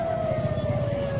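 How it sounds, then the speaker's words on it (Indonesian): An ambulance arrives at a blast and gunfire scene at the Sarinah Thamrin intersection in Jakarta, its siren holding a steady wailing tone under a constant rumble of traffic and crowd noise. "ini ada lagi satu lagi tambahan ambulans yang datang ke"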